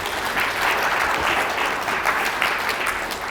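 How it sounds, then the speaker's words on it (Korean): An audience at a Korean unification advisory council meeting gives steady, even applause for two council members, a continuous moderately loud clapping across the whole stretch with no voices over it. "두 분한테 박수 한번 보내주시기 바랍니다"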